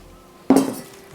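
A single bright clink of a spoon against a metal pan, ringing briefly before fading. Otherwise quiet, with no voices.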